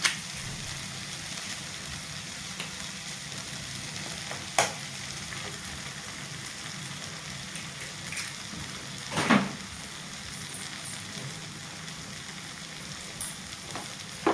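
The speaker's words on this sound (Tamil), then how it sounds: "ரெண்டு முட்டை உடச்சி ஊற்றணுங்க" Beaten eggs sizzle and fry on a hot griddle for egg kothu parotta, with a steady low crackle and a few sharp scraping stirs of a metal spatula against the surface, no voices.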